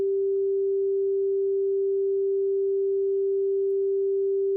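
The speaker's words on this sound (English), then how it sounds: "did you know that sine waves produce the purest form of sound?" Pure sine wave tone holding a single steady pitch, constant in loudness and unbroken from start to finish, with no other sound around it.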